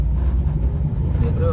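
Maruti Ritz petrol car engine revving while parked, a loud, steady low rumble filling the whole stretch, with a person talking over it.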